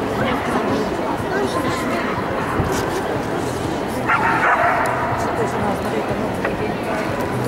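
Two dogs at what appears to be a national dog show bark and yip repeatedly through a busy hall, with steady crowd chatter and talk around them.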